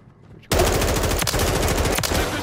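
An M4 rifle in Modern Warfare III multiplayer bursts in abruptly after a quiet moment with a loud, close stream of rapid automatic fire. It holds steady to the end, with a couple of brief gaps between bursts.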